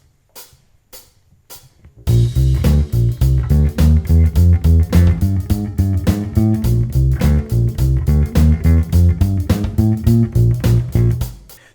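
Electric bass playing the second line of a funk groove, heard alone with a few muted plucks before a steady, punchy run of syncopated notes, loud and close throughout.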